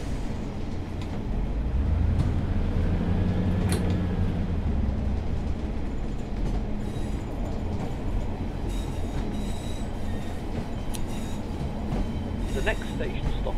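A train in Train Sim World 4 on the Blackpool branch line runs along the rails with a continuous low rumble, faint wheel squeals and clicks, steady and moderately close.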